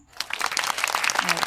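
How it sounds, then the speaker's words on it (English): A short burst of group applause, many hands clapping together at steady volume, with a faint voice mixed in near the end. "let's have a round of applause to Berlin."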